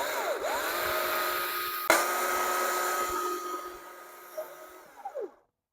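A saw cuts down from the top of a tree branch to meet an undercut, a steady whining buzz that drops away near the end, with a few faint knocks after the cutting stops.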